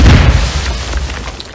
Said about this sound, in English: C4 explosion on MP3.